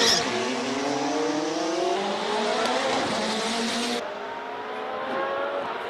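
Ferrari 488 GT3 race car launching at a Cape Town hillclimb, with a loud, close engine rising sharply through the gears over about four seconds and then dropping away into a quieter, fading drone.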